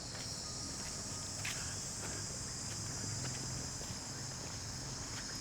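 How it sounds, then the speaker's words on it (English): Cicadas in Siem Reap, Cambodia, give a steady high-pitched buzzing drone that holds level and unbroken from start to finish, fairly loud and even, with faint rustling and scattered low sounds beneath. "I love the sound of the cicada."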